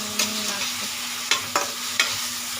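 Food sautéing over low heat in a pan, a steady soft sizzle with a few sharp clinks and scrapes of a utensil at intervals, close and alone.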